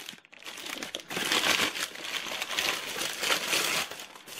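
Plastic packaging around a mug parcel being crinkled and handled close up, a continuous crackly rustle that swells and eases in waves for a few seconds.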